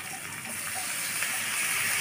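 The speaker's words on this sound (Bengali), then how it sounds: "মশলাটা যাতে পুড়ে না যায় সেই জন্য আমি এখানে একটু জল দিয়ে দিলাম।" Water poured into a pan of spice paste with chili powder being fried, a steady gushing splash with a faint sizzle underneath, close and continuous.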